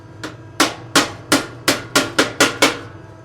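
Sharp metallic technical-hammer blows shaping an oval end plate for a Land Rover Series III V8 performance exhaust strike about eight times in a steady, quickening rhythm, close and ringing, with no talking.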